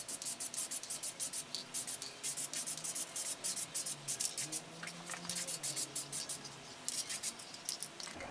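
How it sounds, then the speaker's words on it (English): Short bursts of spray from a can of DupliColor Perfect Match black paint coat wheel center caps, hissing close up in a quick irregular rhythm with brief pauses between passes. "we're gonna be spray painting these things with the DupliColor Perfect Match black and clear coat"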